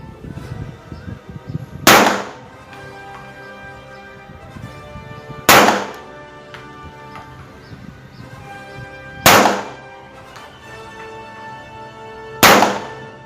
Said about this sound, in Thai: พร้อมยิงครับ